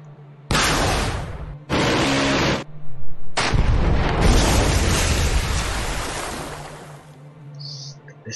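Weapon launches in Command: Modern Operations come through as loud, roaring blasts: two separate bursts, then a longer rumbling roar that slowly fades, with no talking.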